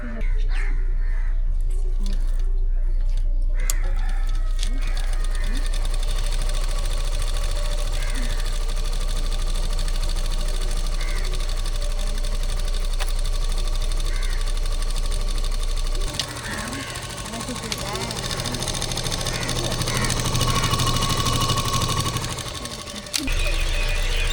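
A sewing machine runs in a steady, continuous whir through the whole stretch, with people talking nearby and birds calling faintly in the background.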